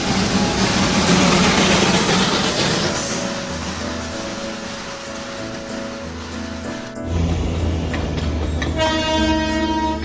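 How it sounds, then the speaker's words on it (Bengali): Darjeeling toy train passing close along the road, a steady mechanical rumble and clatter, with a loud, sustained horn blast taking over in the last few seconds. "এইবারে রাস্তায় দেখা হয়ে গেল আমাদের সেই বিখ্যাত টয় ট্রেনের সঙ্গে।"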